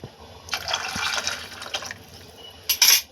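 Water is poured into a pot of Marathi-style drumstick (shevga) curry, using water rinsed from a mixer jar; a broad splashing pour runs for about a second and a half, then a louder short splash near the end, with no talk.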